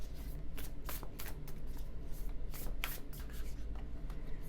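Rapid, papery riffling of a deck of tarot cards being shuffled, close by, in repeated bursts with brief pauses between.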